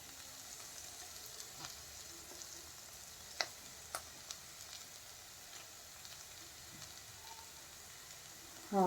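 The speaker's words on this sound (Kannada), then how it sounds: "ಹಾಗೂ ಕ್ಯಾರೆಟನ್ನು ಹಾಕೊಂಡು ಫ್ರೈ ಮಾಡ್ಕೋಬೇಕು." Onion, fenugreek leaves and carrot frying in a pan give a faint, steady low sizzle with a few soft stirring taps scattered through it.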